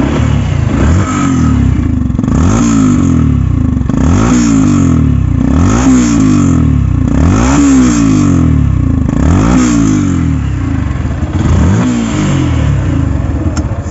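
Second-hand Yamaha FZ-3 motorcycle engine revved repeatedly while standing, about seven rising throttle blips in a steady rhythm, loud and close with no talking.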